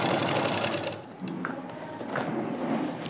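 An electric sewing machine stitches the side seam of a lehenga in a boutique, giving a fast whirring run of stitches that eases off and then resumes in short bursts, fairly close and moderately loud.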